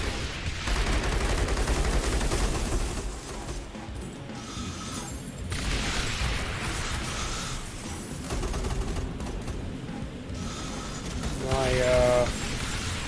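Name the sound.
particle cannons firing in Rogue Tower video game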